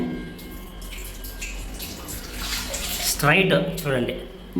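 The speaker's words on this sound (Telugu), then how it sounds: "నీళ్ళు కూడా పోసి చూపిస్తాను చూడండి" Water poured from a container onto bathroom floor tiles, a rushing splash that builds and grows louder toward the end while someone talks over it.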